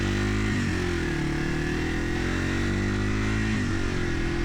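A Yamaha TW200 200 cc motorcycle engine drones steadily while riding, loud and close, with a low rumbling hum and two brief dips where the pitch shifts, as if changing gear, and no talking.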